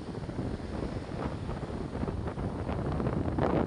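Strong seaside wind buffets the microphone in heavy, uneven gusts that build toward the end, with large waves on a beach where no boats have gone out.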